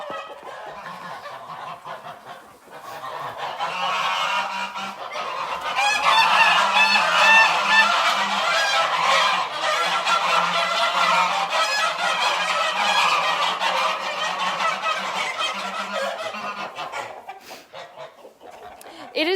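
A flock of farm geese honks loudly and continuously inside an enclosed pen, overlapping calls building to a noisy chorus before easing slightly at the end.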